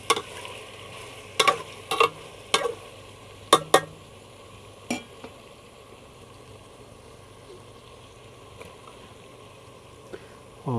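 Ginger, garlic and tomatoes fry in a pan for chicken shorba, giving a soft background sizzle with scattered sharp utensil clacks and scrapes, busiest early on and sparser later.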